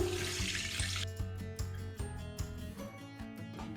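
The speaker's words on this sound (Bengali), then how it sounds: "এবার কড়ার মধ্যে দিয়ে দেব দুধ।" Milk poured into a wok while cooking a semolina milk dessert, a brief faint splashing gush lasting about a second before it gives way to a quieter background.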